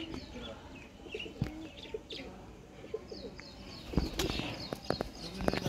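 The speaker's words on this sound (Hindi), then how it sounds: "लाजवाब चूहे कबूतर।" Pigeons calling and cooing in a noisy outdoor setting, with scattered chirps and a few sharp knocks over a steady background hum.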